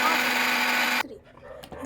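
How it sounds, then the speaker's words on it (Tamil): Mixer grinder blending muskmelon with mint leaves: a loud, steady whirring roar that runs for about a second and then cuts off abruptly, leaving quiet clatter. "இப்போ இது கூட 2 புதினா இலையை போட்டு மிக்ஸியில் நல்லா அடித்து எடுத்து வச்சுக்கோங்க."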